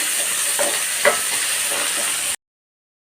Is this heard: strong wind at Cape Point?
no